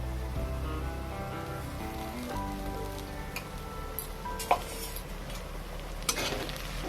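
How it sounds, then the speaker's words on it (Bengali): Onion fries in a pan with ginger, garlic and green chili paste, giving a steady close sizzle with occasional stirring clicks and scrapes. "এবার দিয়ে দিলাম আদা, রসুন আর কাঁচা লঙ্কা বাটা।"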